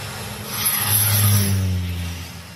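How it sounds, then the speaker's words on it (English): A light aircraft lands at an airstrip in the Masai Mara during the busy tourist season, its engine drone swelling as it passes close and then fading, heard alone. "In the high season, dozens of planes land every day."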